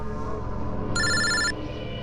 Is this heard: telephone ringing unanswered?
yes